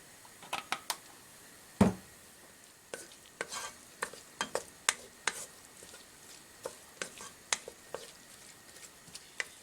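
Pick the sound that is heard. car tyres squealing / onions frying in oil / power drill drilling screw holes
onions frying in oil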